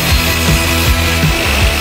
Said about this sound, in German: Vier Hölzer mit einem Sägeschnitt.